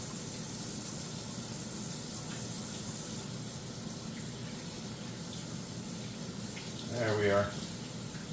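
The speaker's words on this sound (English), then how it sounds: "So I'm just going to wash my hands." Warm water runs steadily from a kitchen tap as hands are washed with soap before handling raw chicken wings, a continuous broadband wash with a brief louder splash near the end and a short spoken remark.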